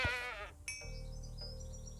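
Minecraft goat bleat in the 1.17 update, one wavering bleat up close at the start, followed by faint game ambience and buzzing.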